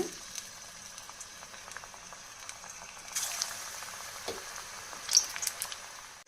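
Onion pakoda batter frying in hot oil, a soft, steady bubbling sizzle that stays fairly quiet, with a few brighter crackles and splashes as more batter drops in.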